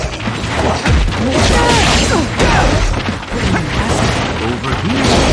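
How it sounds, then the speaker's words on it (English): A Fire Style Firebomb Jutsu attack in Naruto to Boruto: Shinobi Striker, a loud, dense wall of crashing impacts, whooshing bursts and rumble that continues without a break, with voices mixed into the chaos. "Fire style! Firebomb Jutsu!"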